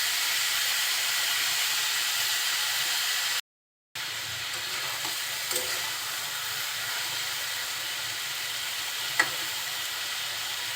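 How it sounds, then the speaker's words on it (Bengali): Small new potatoes fry on medium heat in a pan with a constant soft sizzle and hiss, broken by a brief silent gap and a couple of faint clicks from stirring. "জালটা মিডিয়াম আঁচে রেখে এইভাবে নাড়াচাড়া করতে হবে"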